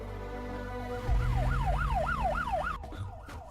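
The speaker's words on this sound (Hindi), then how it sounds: "ये तो पुलिस का सायरन है।" A siren wails up and down in a rapid, steady rise-and-fall pattern over rumbling traffic, fairly close, then cuts off abruptly.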